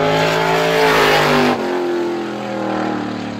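A race car at Star Speedway roars through a time-trial lap, its loud, steady engine drone shifting pitch abruptly as it passes close by, then carrying on at a slightly lower, fading pitch.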